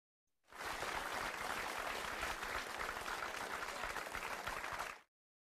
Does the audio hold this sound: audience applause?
yes